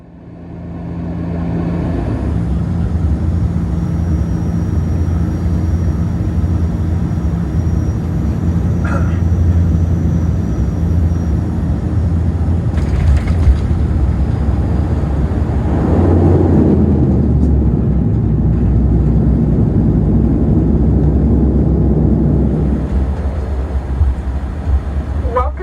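A WestJet Encore Dash 8 turboprop descends and lands at Toronto, with a loud steady cabin drone, a rumbling low roar, a clunk and a rise in noise near touchdown.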